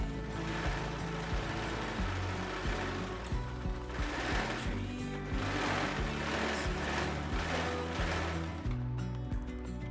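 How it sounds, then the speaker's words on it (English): An overlocker hums and chatters steadily as it finishes the bottom edge of a bikini piece, a fast continuous mechanical stitching rhythm with no pauses. "Finish the bottom edge of the bikini with an overlocker."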